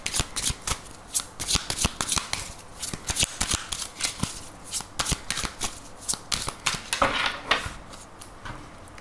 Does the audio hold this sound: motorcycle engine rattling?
no